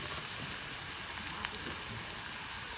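Green chilli, curry leaves and onion sautéing in a pan, a quiet steady sizzle and crackle of frying with a couple of brief sharper pops.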